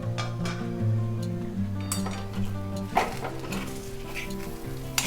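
Dal usili, a lentil and banana-flower crumble, stirred in a pot and the lid set back on, with a steady sizzle, scraping stirs and a few metallic clinks of the lid and spoon, close and continuous.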